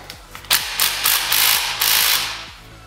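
A hand ratchet loosens bolts on an EJ25 engine's coolant passage, giving a close, loud series of quick clicking bursts in several short strokes.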